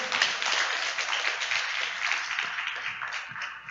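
A church congregation claps for the Lord during a sermon, a dense and steady patter of many hands that holds at an even level for the whole stretch without a break.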